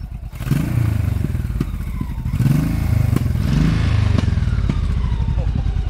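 A motorcycle engine idling and then revving in repeated rising bursts, loud and close, with clattering and knocking from the machine and people talking nearby.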